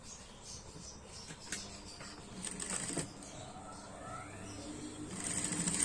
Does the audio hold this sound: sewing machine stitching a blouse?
yes